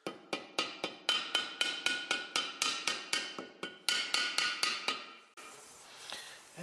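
Repeated hammer blows driving an axle seal into a John Deere 710, about sixteen sharp metallic strikes in a steady rhythm over five seconds, close and alone, followed by a brief hiss of quieter noise.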